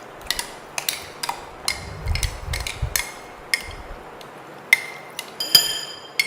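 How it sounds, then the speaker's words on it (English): Spoon clinks and scrapes against a bowl while cream cheese is mashed with heavy cream for a rock salt topping: scattered sharp taps and short scraping strokes, close and fairly quiet, no talking. "we're going to mash our cream cheese with the heavy cream. Use the back of your spoon."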